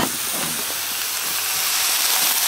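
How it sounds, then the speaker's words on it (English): Venison steaks sizzle on a pop can stove outdoors, a steady broadband hiss and crackle that holds at an even level throughout with no talking. "Look how perfect that's cooking those steaks."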